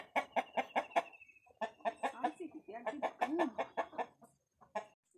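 A hen clucks loudly and repeatedly in quick, agitated bursts as a woman catches it by hand, the calls coming in uneven runs with short pauses between them.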